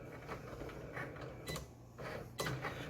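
A Cricut cutting machine working through a vinyl decal, giving soft mechanical whirring and a few short sliding bursts, fairly quiet and close with no talking.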